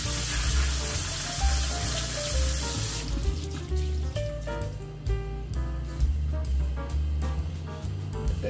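Tap water running over pinto beans as they are washed and rinsed, a continuous splashing hiss that breaks into choppier sloshes and clicks as the beans are stirred by hand.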